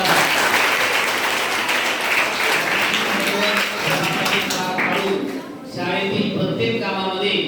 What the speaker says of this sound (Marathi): त्यामुळे यांच्यासाठी एक जोरदार टाळ्या वाजवा.